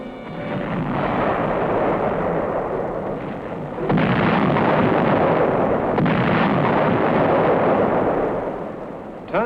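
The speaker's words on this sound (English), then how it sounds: "Floating artillery holds back an enemy" Dense Korean War artillery barrage from floating guns near a harbor front, heavy continuous booming and rumbling blasts filling the whole span, with a sharper jolt around the midpoint and no talk.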